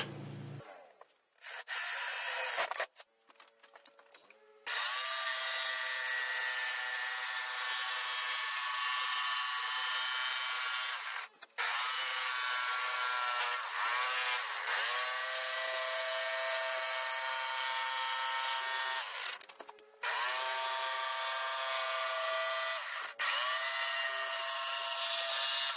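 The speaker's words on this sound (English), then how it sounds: "take a Forstner bit, cut a small hole in here so we can take a jigsaw and cut" A power drill bores through a wooden cornhole board with a Forstner bit, and then a jigsaw cuts out a circle. The sound is a loud, steady, high-pitched whine held for long stretches, broken by a few brief stops and restarts, with no voices.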